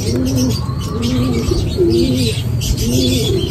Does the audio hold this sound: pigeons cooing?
yes